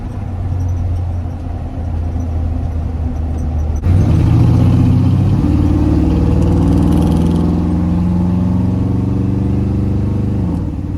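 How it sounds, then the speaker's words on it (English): A retired army truck idles while still cold, its exhaust giving a low, steady rumble that abruptly grows louder and fuller partway through, then holds at a strong idle. "And she does have an exhaust note."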